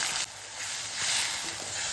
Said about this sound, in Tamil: நல்லா கொதிச்சு சுண்டட்டும்.